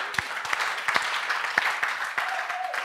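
A church congregation at a French-language worship service applauds, with a loose patter of individual hand claps spread unevenly across a few seconds, moderately close and without speech over it.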